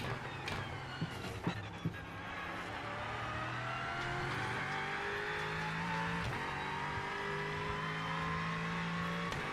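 A race car engine in the iRacing sim at Laguna Seca drones steadily, its pitch climbing gradually through the gears as it accelerates, with a few brief clicks and bumps over the sustained loud engine tone and no talk.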